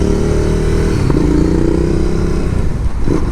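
Motorcycle fitted with a 2-in-1 full exhaust system revving loudly and close by, a steady throaty engine note rising and falling, with a sharper rev burst near the end.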